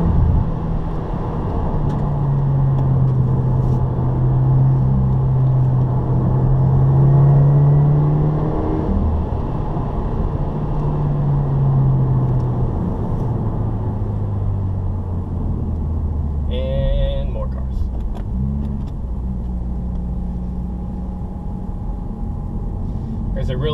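A 2015 Subaru WRX pulls hard through the gears, its engine droning loudly up and down in pitch with a slight second-gear hesitation, while someone talks over the cabin rumble.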